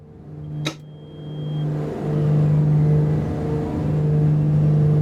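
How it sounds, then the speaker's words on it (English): Twin aircraft engines in Microsoft Flight Simulator 2020 spinning up faster, a loud continuous whirring drone that climbs steadily in intensity, with a brief sharp click near the start. "You can hear the wheels spinning, getting faster."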